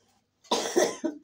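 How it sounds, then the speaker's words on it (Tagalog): A person coughs several times in quick succession, close and fairly loud after a moment of quiet, with one short final cough at the end. "Ako po inuubo."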